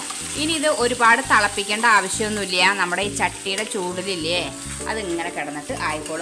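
Ground chutney hisses and sizzles after going into a pan of hot tempering, a steady frying crackle running beneath someone talking close up throughout.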